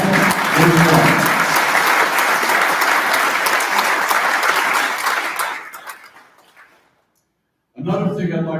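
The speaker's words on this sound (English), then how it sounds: "And you deserve a round of applause." Audience at a vintage Japanese motorcycle club awards evening bursts into loud, dense applause that fades out after about six seconds, followed by silence and then a voice resuming.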